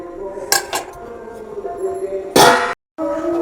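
A metal lid clanks down onto a cooking pot of vegetables simmering in milk for dudh shukto, a few sharp clinks followed by one louder clatter close by.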